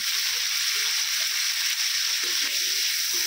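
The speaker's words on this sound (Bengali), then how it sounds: "আমড়াটাকে তেলের মধ্যে হালকা করে একটু নেড়ে নেব।" Hog plum pieces with salt and turmeric sizzle steadily in hot oil, a loud continuous frying hiss with soft scraping as they are stirred in the pan.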